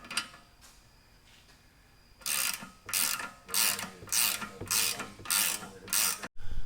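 A bushing is pressed into a BMW E36 trailing arm, giving a quiet stretch and then about seven rhythmic ratcheting clicks of a press tool, close and fairly loud, with a brief dropout near the end.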